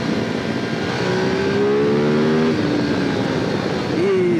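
Engine of a 2022 Ducati Desert X motorcycle revving hard as it pulls out of a bend in second gear, loud and close with rising and falling harmonic tones over wind noise.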